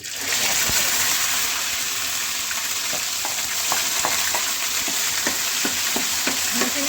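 Ground onion fries in a hot pan with a steady, dense sizzle, punctuated by occasional scraping stirs; no one speaks.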